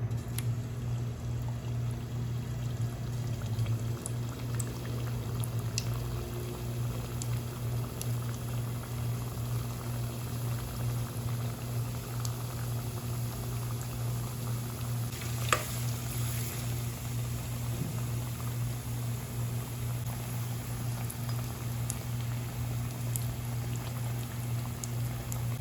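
Food bubbles steadily in half-heated coconut oil, a continuous, even frying fizz with a low hum beneath it and no talking.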